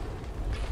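Ship cannon fire in the Atlas naval game, a schooner trading shots with an armored sloop: a deep, rumbling boom that swells and fills the short moment on its own.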